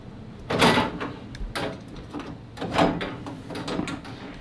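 A wooden museum specimen drawer at a wildlife and fish biology museum slides open, giving several rough scraping and rumbling pulls with brief knocks between them, close and fairly loud.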